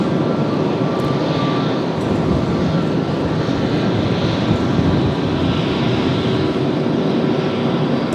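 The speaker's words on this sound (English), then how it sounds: "That's 767" A United Boeing 767 jet rumbles steadily and loudly at Washington Dulles on a cloudy, damp day, a continuous broadband engine roar holding for the full stretch with no talk over it.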